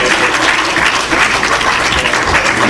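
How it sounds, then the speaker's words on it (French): Dense, steady applause from a church worship crowd, loud and continuous throughout with no clear gaps, clapping to honour the guitarist. "Un applaudissement pour Frère Fayot."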